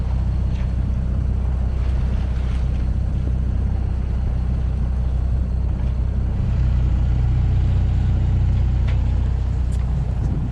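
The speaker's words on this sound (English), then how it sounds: "Nearly out of the estuary, out to the open ocean. There's quite big rollers" A sailboat heading out of an estuary into open ocean with big rolling swell: a constant low rumble of wind and water against the hull, steady and close with no voices.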